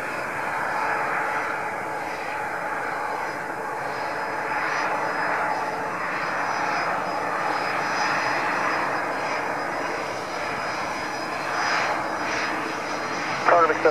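A Cargolux cargo jet on approach and landing gives a steady, moderately distant engine roar that holds evenly throughout, with a faint whining tone on top and a brief bump near the end.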